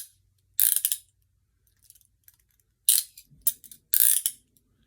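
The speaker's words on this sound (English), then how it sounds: "Trying to get the cuffs to sound good here." Quick metallic ratcheting clicks come in several short bursts separated by pauses, close and crisp, like cuffs being snapped and tightened.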